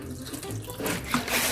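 Water pours steadily from a tap or hose onto parched soil in potted plants, a continuous close splashing rush that grows a little louder toward the end, with no talking.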